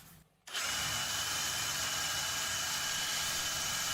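After a brief quiet moment, a power drill starts up and runs continuously at a loud, steady pitch, close by, while attaching adjustable feet to the underside of an entry table made from 100-year-old oak.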